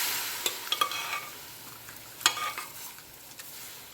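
A utensil stirring through a sizzling tomato mixture in a kadhai, soft scrapes and a few clicks over a steady low hiss, no voices.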